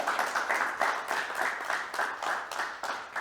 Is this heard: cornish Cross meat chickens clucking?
no